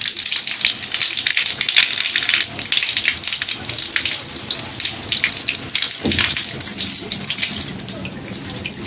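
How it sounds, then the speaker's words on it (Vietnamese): Water is poured steadily into a drain being tested for flow, giving a continuous rushing, splashing stream that stays loud and close throughout, with one brief break near the end. "sẽ xả nước xuống cho cô chú bác anh chị mình xem coi nó có rút hay không nha"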